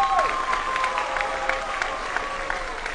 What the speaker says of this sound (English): Let's give them a round of applause tonight.